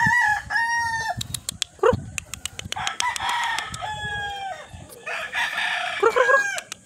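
A Sweater White Leg gamefowl rooster crows repeatedly at close range, several drawn-out calls with clucking between them, loud and clear.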